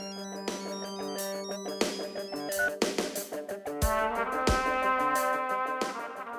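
A phone ringtone rings in a Hindi TV serial scene, a bright repeating melodic tone pattern that plays continuously and clearly, alone without voices.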